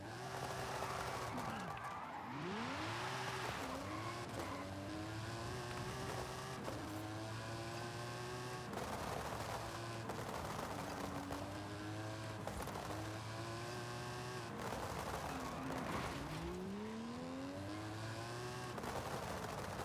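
A TVR sports car driven in Forza Horizon 5, its engine droning steadily with rising and falling revs through gear changes, heard continuously at moderate level with no talk.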